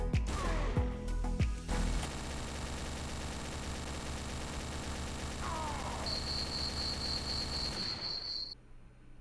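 Dense gunfire and explosions from the Garry's Mod video game roar continuously, starting with a few sharp blasts and building into a loud sustained barrage with a high electronic whine near the end.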